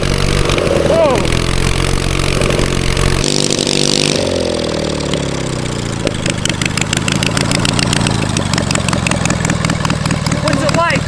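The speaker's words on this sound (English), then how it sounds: "What's it like riding the world's first riding push mower?" A 450cc twin-cylinder engine on a push lawn mower runs while someone rides it, revving loudly and changing pitch as it speeds up and eases off. Voices speak over the engine.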